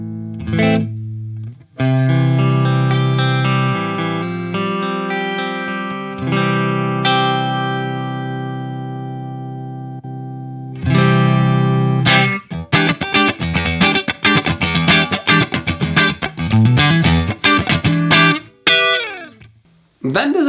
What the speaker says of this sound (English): Let's go to the comp wah.